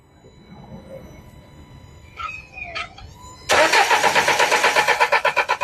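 Car engine cranked on the starter motor after stalling, with a couple of brief whining attempts followed by a loud, steady rhythmic churning of the starter turning the engine over, close up.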